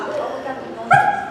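A person at a church Sunday service imitates a dog's bark, giving one loud, close yelp-like woof near the end of the clip, with background chatter underneath.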